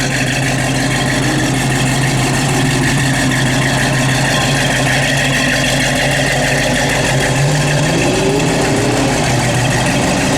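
A 1973 Dodge Challenger engine runs steadily at idle with a deep, continuous low rumble, loud and close throughout, with a slight rise in pitch near the end.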